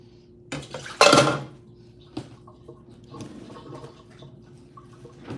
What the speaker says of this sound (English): There's probably still a couple dishes upstairs I gotta grab.